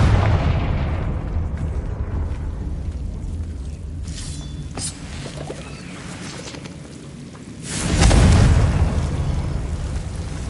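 A Confringo blasting spell goes off in the Hogwarts Legacy video game: a single deep, booming explosion lands near the end, rising out of a steady low rumble of game ambience.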